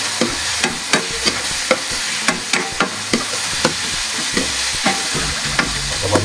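Chili peppers sautéing in a pan for Filipino pork adobo: a steady loud sizzle with a spoon scraping and tapping the pan in an even rhythm of about two strokes per second, close up and without talk.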